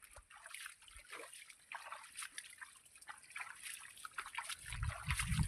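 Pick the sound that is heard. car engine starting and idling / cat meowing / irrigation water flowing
irrigation water flowing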